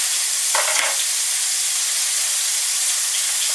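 Food frying in a pan for fettuccine, a loud continuous sizzle and hiss with a brief burst of stirring and spattering near the start before it settles back into an even fry.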